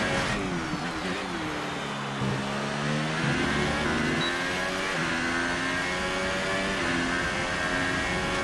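An F1 car in the video game F1 2018 accelerating on track, its engine screaming loud and close and climbing through gears in rising, sweeping whines with no pause.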